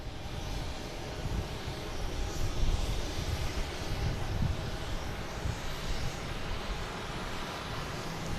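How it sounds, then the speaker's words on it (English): An Alaska Airlines Boeing 737 MAX 9 arriving at Boston Logan from San Diego makes a steady, broad jet roar at moderate distance that swells slightly midway and holds without voices. "Another Alaskan Airlines coming in. From San Diego, an A737 MAX 9."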